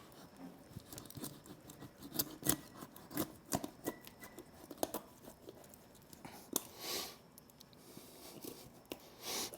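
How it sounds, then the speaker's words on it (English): Shears crunch through the sternum of a wild hog carcass during butchering, giving a run of sharp, close snips and cracks in irregular bursts, with no talk. "we're going to cut through the sternum right here"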